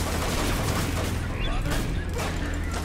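A shotgun firing in the violent shooter game Hatred, heard as dense, loud booming blasts over continuous game noise and low rumble for about three seconds, with speech mixed in.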